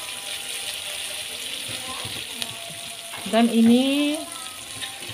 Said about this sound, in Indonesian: Aduk-aduk sebentar. Menumis ini tidak perlu lama-lama lagi karena ikannya sudah kita goreng tadi.